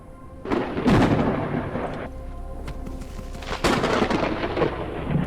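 Thunder booms and rumbles loudly through a storm in the video game Forever Skies, with a heavy crack near the start and another surge later over a steady roar of wind and rain.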